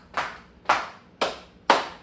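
Children clapping their hands in time to a Filipino action song, four sharp claps at a steady, even beat, moderately loud and close, with no voices over them.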